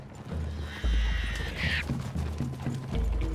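Horse hooves clop steadily while a horse whinnies once partway through, set against a low rumbling soundscape in Red Dead Redemption 2.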